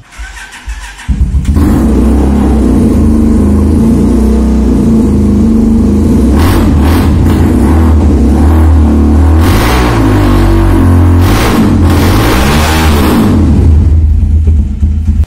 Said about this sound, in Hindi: तो इसके वो बाइक की आवाज़ दोबारा सुनाते हैं।